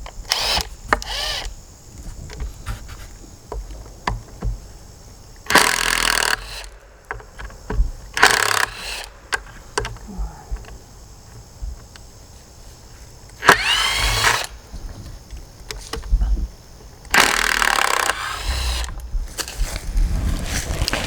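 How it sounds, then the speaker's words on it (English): A power drill backs screws out of wooden fence door pieces outdoors in several loud, close bursts of whirring separated by quiet pauses, with no talk. "So these are attached with screws, so we're going to simply remove the screws."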